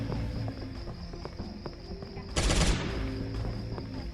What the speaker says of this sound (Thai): ปืนก็ยิงให้ระยะใกล้มากเออ ขนาดนี้ตายเลยนะเนี่ย